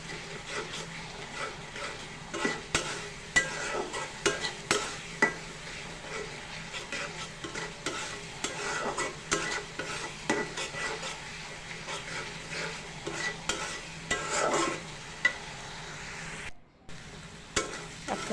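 Spiced masala with green chilies and chili powder is fried down in oil in a pan for a pangas fish head and tail bhuna, a continuous close sizzle broken by repeated scraping stirs of a spoon across the pan.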